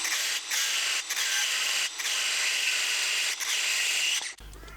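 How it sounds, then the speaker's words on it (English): A power tool cuts the threaded piece off a transfer case adaptor for an FJ45 Land Cruiser, throwing sparks; a loud, continuous high-pitched grinding shriek with brief dips, ending abruptly. "we simply cut this threaded piece off, because that's going to give us our 95 mil"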